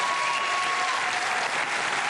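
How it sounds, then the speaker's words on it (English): A studio audience at a televised panel debate breaks into dense, steady applause, many hands clapping together in a brief, even burst. "give yourselves a round of applause"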